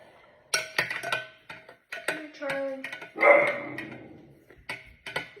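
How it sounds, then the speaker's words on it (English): A pet dog lying in front of another dog at home barks and growls at her in short, irregular bursts. The sounds come in clustered yips and woofs with pauses between them, fairly close. "She's just laying in front of Lexi, just barking or growling at her"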